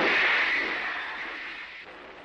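A submarine torpedo launches from its tube in a loud, rushing burst that fades slowly over a couple of seconds, with no talk over it.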